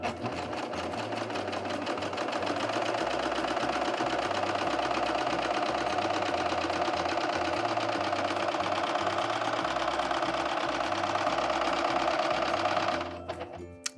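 A Husqvarna Viking Amber Air S|600 serger runs a 5-thread safety stitch through fabric, giving a loud, steady, fast mechanical whir that holds evenly for about thirteen seconds and then stops abruptly.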